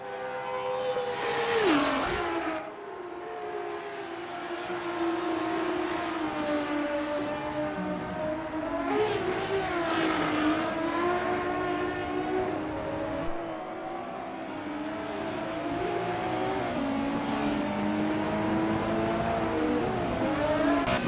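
Race car engines roar continuously in a sim racing game, a BMW CSL among a vintage GT field at the Deutschlandring circuit, with rising and falling revs, gear shifts and overlapping cars throughout, loud and close.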